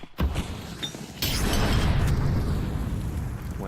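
A grenade detonates in Counter-Strike during a PGL Masters Bucharest 2025 esports match, producing a heavy booming blast that swells into a sustained rumbling roar amid game noise.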